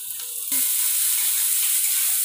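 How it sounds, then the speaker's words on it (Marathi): Finely chopped capsicum is added to onions and ginger-garlic paste in a hot pan for pav bhaji, and a loud, steady sizzle erupts immediately and keeps hissing. "इथे मी 2 शिमला मिरची टाकते बारीक कट करून"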